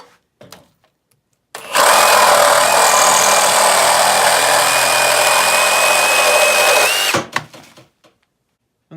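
A Ryobi brushless reciprocating saw cuts through a wooden 2x4, a loud, steady, high buzzing roar lasting about five seconds after a few brief clicks and handling knocks, then stopping abruptly with rattling afterward.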